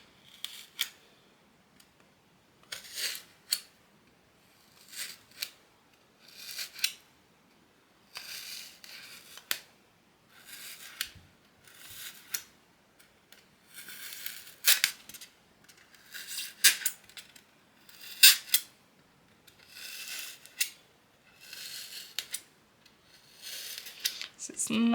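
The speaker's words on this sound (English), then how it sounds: "It's not a good project if you don't like the sound of styrofoam" Styrofoam craft pumpkin from Dollar Tree being scored with a small Cricut tool, a series of short squeaky scraping strokes in an irregular rhythm, close and fairly loud, with quiet gaps between strokes.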